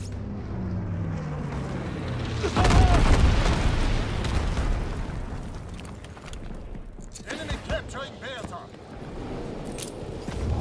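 Bomber explosions booming in a Call of Duty WW2 Domination match, a heavy low blast hitting near the start and rumbling on under in-game voices, gunfire and battlefield noise.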